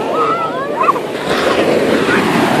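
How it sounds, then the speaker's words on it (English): Ocean waves wash in at Laguna Beach, a loud, steady roar of surf mixed with wind buffeting the microphone, and faint voices briefly rising above the noise. "This is Jack's first trip to the beach."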